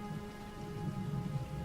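Rain falls steadily in the game ESO, a faint, even patter with a low rumble beneath and no voices.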